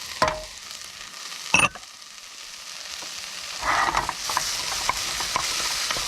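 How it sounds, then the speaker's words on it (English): Carrots and celery sizzle and fry in a pan for a lentil soup, with a few sharp scrapes and clanks of a utensil stirring them, the steady frying hiss close and continuous. "Give that a good stir."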